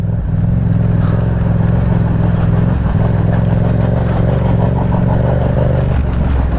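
Yamaha MT-07 road motorcycle ridden over a rough, rutted dirt track, its engine droning steadily and loud throughout with rattling clatter from the bumpy surface, no pauses.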